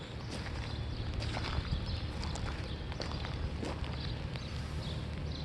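Irregular hoof clops mixed into steady, noisy outdoor rumble, with no clear rhythm and no voices.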